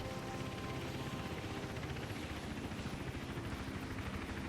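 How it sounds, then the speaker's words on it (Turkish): Helicopter flying in the video game Hitman Absolution, a steady rotor drone with rhythmic blade chop holding at an even, moderate level throughout. "Helikopter, helikopter."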